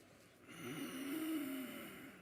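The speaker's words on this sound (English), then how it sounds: "We're gonna inhale for 6 seconds through the nose." A deep ujjayi inhale drawn through the nose during a standing breathing exercise, one slow, rough, throaty rush of air lasting over a second, heard close in a steady background.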